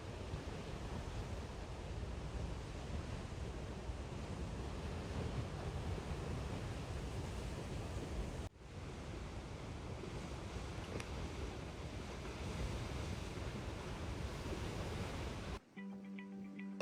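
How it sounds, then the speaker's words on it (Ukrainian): Big ocean waves pound the shore at Porto Moniz, Madeira, in a steady, dense roar mixed with wind, continuing without a break apart from two brief cuts. "де зазвичай найбільші хвилі на острові"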